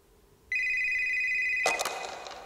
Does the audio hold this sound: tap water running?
no